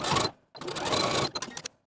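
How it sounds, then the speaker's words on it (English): A sewing machine stitches a 5/8 inch seam on a wrap skirt facing, with a short whirring burst, a brief pause, then a longer run of stitching that ends in a few quick stuttering stitches, close and moderately loud. "Sew from the top of the seam to the bottom of the facing with a 5/8 inch seam allowance"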